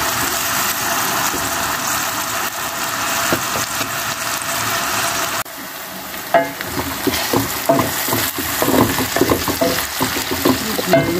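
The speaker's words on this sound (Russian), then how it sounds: "Обжариваю морковь, лучок, помидорчик добавила." Carrot, onion and tomato frying in a pan for stewed cabbage give a steady close sizzle, with louder crackles and stirring scrapes after a brief drop midway.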